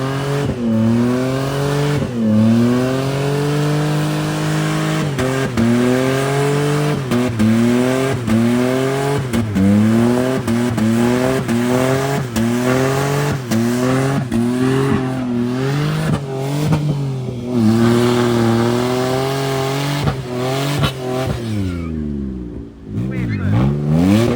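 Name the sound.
Mitsubishi Pajero driving through a bog hole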